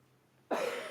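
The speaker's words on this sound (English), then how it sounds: "Sorry for the cough." A single sharp cough breaks a near-silent room; it is close and loud and comes halfway through.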